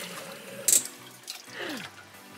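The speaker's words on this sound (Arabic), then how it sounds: "طيب احنا حطينا كريم شانتيه وبعدين ميه" Water from a tap or kettle briefly pours into whipped cream while ice cream is being made in a home kitchen. A short, close splash sits over faint background noise, with no talk.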